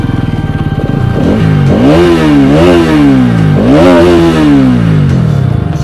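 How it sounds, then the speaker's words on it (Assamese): A motorcycle engine turns over and revs in repeated rising bursts, loud and close, with clattering mechanical noise between the throttle pulls. "মই বাইকখন এতিয়া চলাম ষ্টাৰ্ট দিওঁ"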